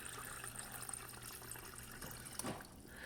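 Water running through a newly installed GE MSWF filter in a refrigerator dispenser, a steady broadband flow under faint background noise, with a brief louder splash near the end.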